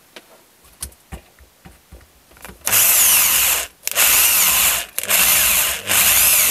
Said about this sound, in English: on this occasion, purely for speed, I have decided to use an electric drill